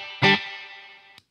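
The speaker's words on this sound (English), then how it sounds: "let's remind ourselves what the spring reverb sounds like on the top." A single guitar chord from a Great Eastern FX XO crossover pedal's spring reverb side rings out loud and clear, then decays in a long, smooth shimmering tail lasting about a second, followed by a faint click.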